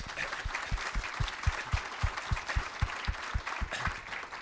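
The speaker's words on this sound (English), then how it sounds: "So a round of applause for Adam." Audience applause at a college in-service day honoring the Educator of the Year, steady clapping from a crowd with sharp individual claps standing out near the front, continuous throughout.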